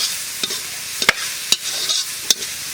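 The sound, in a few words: frying and stirring leafy greens in a pan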